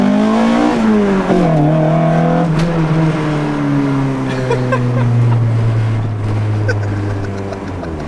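Acura Integra GSR naturally aspirated engine revving hard, a loud rising and falling roar with a strong sweeping tone that climbs, drops and settles lower as revs change, heard close up.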